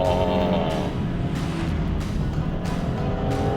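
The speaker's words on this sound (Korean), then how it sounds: "지금도 제가 RPM을 한번 쥐어 짜볼게요." A Hyundai Staria LPG van engine revs up steadily from inside the cabin, a constant droning rumble climbing in pitch with slight surges, no talking over it.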